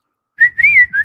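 A person whistles to imitate the R2-D2 droid, giving a short, loud, close series of three warbling, sliding whistled chirps, with nothing else heard.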